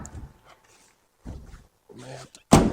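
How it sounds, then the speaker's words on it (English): Door of a 1957 Chevrolet 2-door pushed shut, scattered handling noises and muffled talk leading up to a single sharp, loud slam at the end. "We're going to close the door."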